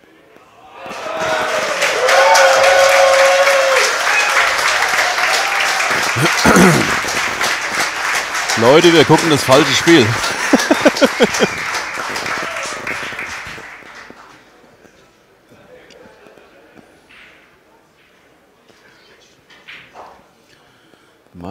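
A crowd at a friendly 10-ball pool match between Efren Reyes and Lars Kuckherm bursts into loud, sustained applause with scattered shouts, slowly fading away after about fourteen seconds while a commentator talks over it.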